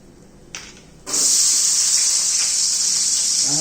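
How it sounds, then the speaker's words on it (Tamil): Onions and green chillies hit hot oil after a couple of soft knocks, setting off a sudden loud, steady sizzle that holds close and unbroken to the end, with no voices. "எண்ணெய் காஞ்சதும் வெங்காயம் பச்சை மிளகா போட்டுக்கலாம்."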